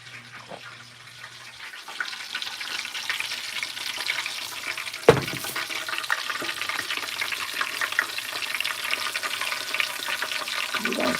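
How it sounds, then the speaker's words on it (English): Hot Crisco grease sizzles steadily in a pan, ready for frying shrimp, a close, continuous crackling hiss with a brief sharp clatter near the middle, and no talking. "sound like this grease is really ready now"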